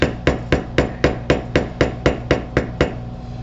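A mallet taps a low angle beveler into tooled leather around a floral design: twelve crisp, evenly spaced strikes, close and loud, with short ringing decays and no talking.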